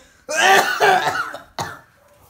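A person coughs hoarsely in a quick run of rough bursts, then one more cough after a short pause, nearby and fairly loud.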